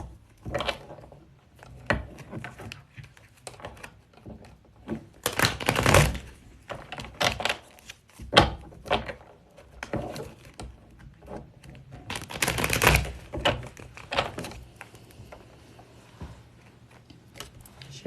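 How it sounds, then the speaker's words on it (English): Tarot cards shuffled by hand in repeated bursts of riffling and slapping, close and fairly loud, separated by quieter pauses with faint background sound. "I want you to ask them right now while I'm shuffling the cards"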